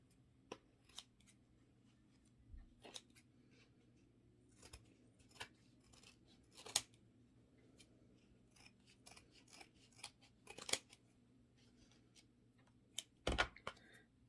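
Scissors snipping overhanging paper from the edges of a handmade gift box, a series of short, crisp close-up cuts in uneven rhythm over a quiet room.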